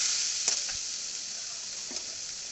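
Ginger and garlic paste fries with spices and turmeric in a pan for a catla fish kalia, giving a steady, even sizzle throughout with a couple of faint clinks of stirring.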